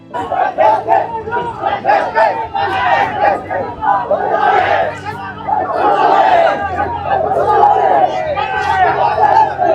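A protesting crowd outside a government hospital in Rajahmundry chants slogans together in loud rhythmic bursts, with overlapping shouts and chatter filling the space between chants.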